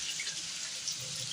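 Mung beans being washed in a bowl of water, giving a brief, steady splashing and sloshing close by.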